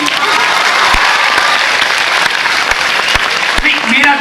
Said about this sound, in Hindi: बजा दो ताली यार